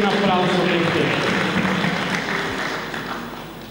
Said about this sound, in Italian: E questo è un applauso per te.